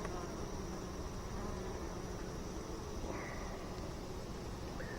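Honeybees buzz steadily and densely around an open hive during an inspection, a continuous close-up hum of many insects with no speech.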